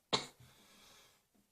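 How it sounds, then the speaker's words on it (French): A woman gives a single sharp cough, followed by a short raspy exhale and then quiet, heard close and alone. "je suis désolée si je tousse, ça fait très mal"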